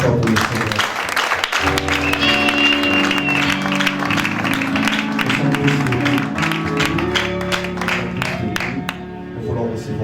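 A church congregation at a Sunday service claps and cheers loudly and steadily for the whole stretch, with sustained music and voices underneath the dense applause.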